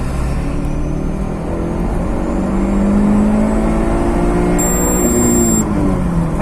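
A car with a Varex muffler, its valve fully closed, accelerates hard in second gear, the engine note rising steadily and loudly close to the microphone, with no talking.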